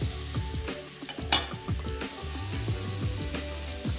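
Zucchini wok-frying, pushed aside in the wok: steady soft sizzle with frequent scraping and clinking of a utensil against the metal pan, close and moderately quiet, no voices.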